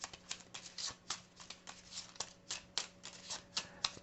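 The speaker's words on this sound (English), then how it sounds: "And we'll shuffle this deck." Deck of game cards for Mage Knight being shuffled, a quick run of crisp riffling snaps and flutters in a steady rhythm, close and fairly quiet, with no talk.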